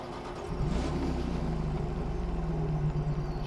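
A Dodge Hellcat engine in The Crew Motorfest racing game, a deep, steady, loud idle rumble that swells slightly as the revs come up and then holds.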